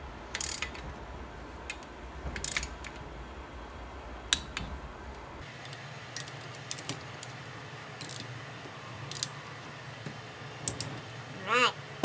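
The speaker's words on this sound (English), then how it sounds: "let's go ahead and lock these rods down at 25 foot-pounds" A torque wrench ratchets and clicks while tightening connecting rod bolts on an air-cooled Volkswagen Beetle crankshaft to 25 foot-pounds. Sharp, close clicks come at spaced intervals over a low workshop hum.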